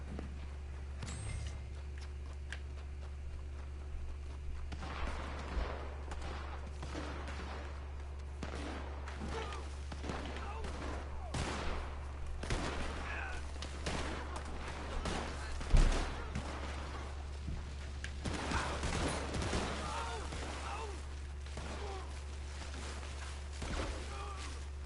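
Scattered gunshots and short bursts of fire in a shooter game pop at irregular intervals over a constant low hum, some close and sharp, others more distant.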